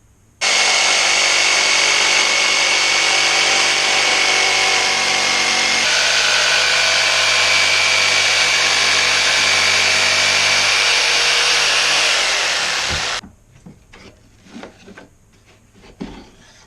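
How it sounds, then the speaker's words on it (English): A jigsaw cutting out wooden spoon blanks with already-carved bowls runs loud and steady for about twelve seconds, its pitch dipping slightly partway through, then cuts off into quiet handling noises. "Just the jigsaw is probably even quicker than the scroll saw"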